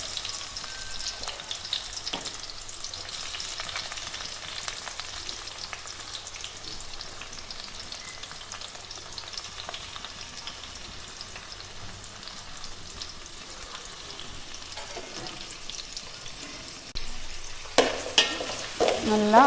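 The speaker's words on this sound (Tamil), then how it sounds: "நல்லா வதக்கி விட்டுங்க." Chopped onions sauté in a hot pan for mushroom biryani, giving a steady, close sizzle with occasional stirring scrapes, and the frying grows louder and more crackly near the end.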